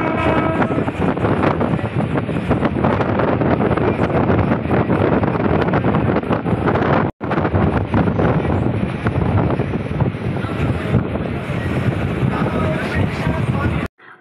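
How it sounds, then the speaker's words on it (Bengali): Strong wind rushes past a moving train, a loud, continuous buffeting roar with rattling underneath, steady for the full stretch apart from one brief break. "ট্রেনে প্রচুর হাওয়া দিচ্ছে"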